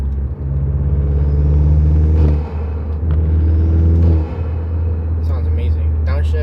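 A bagged Mk8 VW GTI engine rumbles through its intake with a deep steady drone, rising and falling as it revs twice, with faint chatter and clicks near the end.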